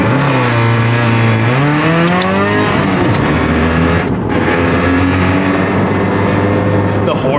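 Toyota GT-86 with individual throttle bodies and an ultra-lightweight flywheel revving hard on track, the engine pitch climbing and falling quickly like a motorcycle, loud and close with a voice faintly underneath.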